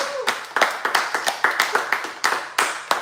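An audience at an author talk claps in a fairly small gathering, distinct individual claps landing in a quick uneven rhythm rather than a dense roar, close and moderately loud throughout.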